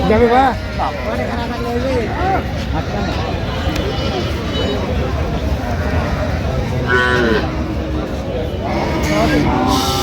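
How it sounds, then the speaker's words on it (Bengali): Cows and calves moo repeatedly amid the constant bustle of a crowded cattle market, with people talking over the lowing throughout. "গাভী বাছুর আমরা দেখছিলাম এখানে।"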